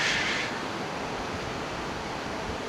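Steady broadband rush of surf and wind noise on a Boracay beach, fairly loud and continuous, with a brighter hiss in the first half-second.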